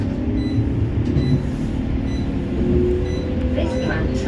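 Low rumble of a West Midlands Metro tram pulling away, a steady drone with faint rising motor tones near the end, heard from inside the car.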